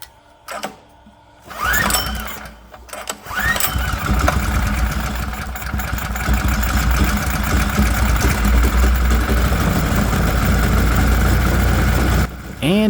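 Predator 212 small engine fitted with electronic fuel injection cranks with a couple of pulls, catches and settles into a loud, steady close-up running drone that continues nearly to the end, then cuts off.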